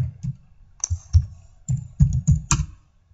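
Clicking keystrokes on a computer keyboard while an email address is entered into a web form, a quick irregular run of close, distinct taps with short pauses between bursts.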